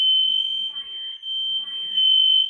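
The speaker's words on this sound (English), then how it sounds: "The fire alarm went off." A fire alarm sounds with a loud, continuous high-pitched electronic tone that holds steady throughout, while a person talks faintly beneath it.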